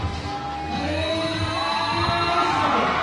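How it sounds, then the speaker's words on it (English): Basketball crowd noise at an outdoor FIBA 3x3 All Stars event, with fans supporting Team Manila, sounding as a steady, fairly loud arena roar and murmur with tonal whistles or horns layered through, held continuously throughout. "You can hear the crowd"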